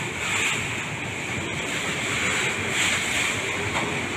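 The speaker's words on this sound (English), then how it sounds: "Because it's really, really strong wind." Strong typhoon wind roars steadily outdoors, a broad rushing wash that swells and eases slightly, loud and continuous with no voices.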